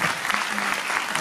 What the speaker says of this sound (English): can I ask you guys to clap for yourself once?